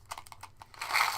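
Quick crinkling of a thin mint wrapper, a few soft crackles at first, then a denser, louder rustle building toward the end, close up with no talking.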